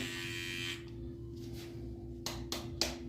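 A Powertec TR-2323 digital beard trimmer buzzes steadily up close, its motor tone dipping and shifting as it passes over stubble, with a few short brushing strokes toward the end.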